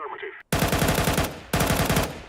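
AK rifle fire in a tactical shooter game, two long rapid full-auto bursts of loud, dense cracks, close, separated by a brief pause after a short quiet moment.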